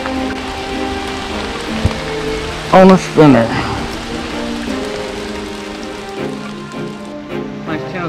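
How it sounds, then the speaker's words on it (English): Rain falls steadily at Greensboro Country Park during a fishing trip, a constant hiss throughout, with a voice talking briefly in the middle. "Greensboro Country Park rain."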